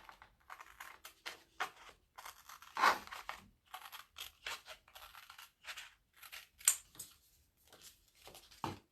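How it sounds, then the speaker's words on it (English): Scissors snip through printed paper along cut lines in short, irregular bursts of crisp clicks and rustles, separated by pauses, close and quiet. "just cut along these cut lines to separate out all the different pieces"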